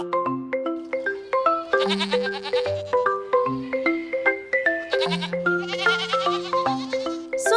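Several goats, a family of adult goats and kids, bleat in quick succession, loud and close, with overlapping wavering cries of varied pitch filling the whole stretch.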